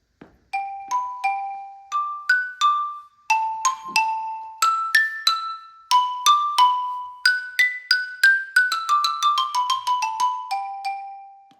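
Keyboard percussion etude, a mallet instrument, played as a series of clear ringing struck notes that build into a quick descending run, each tone decaying briefly, close and alone.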